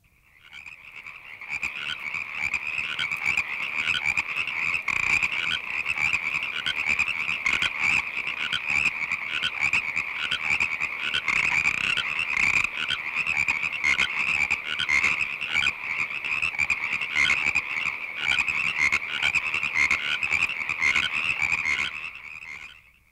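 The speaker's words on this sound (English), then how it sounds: "The voice most commonly heard in California at the far side of the continent is that of the Pacific tree frog, Hyla regila." Pacific tree frogs (Hyla regila) call in a dense, continuous chorus of rapid croaks from a California site, loud and steady throughout with no voices.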